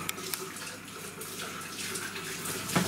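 Hot water pours from a kettle while a stovetop is being koshered, a quiet, steady splashing stream that runs without a break and ends with a soft clunk.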